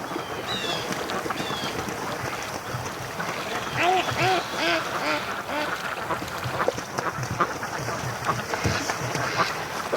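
Free-range ducks quack on a lake in loud, close bursts, repeated calls mixing with water splashes and a boat's movement, with some background chatter.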